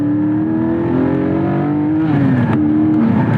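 A Porsche Spyder's engine revs and climbs under throttle, a strong steady drone rising in pitch, dipping briefly and pulling up again, loud and close throughout with no voices.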